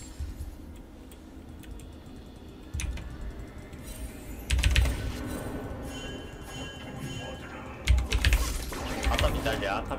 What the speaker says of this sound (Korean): 엄청난 키보드 소리가 들리는 걸 보아하니